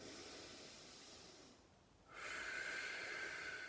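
Soft, close breathing: a quiet inhale through the nose dips into near silence, then a louder, breathy exhale through the mouth hisses steadily.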